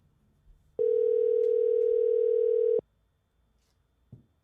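A single telephone ringback tone on an unanswered call: one steady, clear electronic beep lasting about two seconds, standing alone against near silence.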